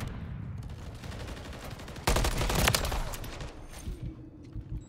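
Dense gunfire from a tactical shooter game match, continuous rattling shots with a louder, sharper burst midway, no talking.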